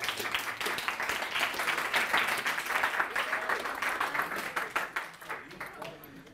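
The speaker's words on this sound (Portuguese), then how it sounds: "Palmas para nossa amiga." Classroom applause during a university analytic geometry lecture, a dense run of clapping from a group of students lasting several seconds and gradually thinning toward the end.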